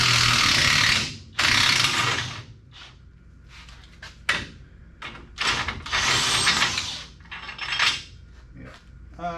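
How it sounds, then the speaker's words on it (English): A spring compressor is ratcheted off a car's suspension, giving repeated bursts of metallic clicking and clanking up close, with short pauses and clatter between strokes. "See if we can get this spring compressor out of here."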